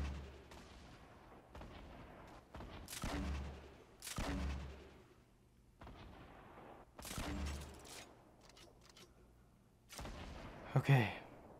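Rockets and gunfire in Fortnite come as loud, booming blasts at irregular gaps, with quieter game noise between them and a final sharp burst near the end.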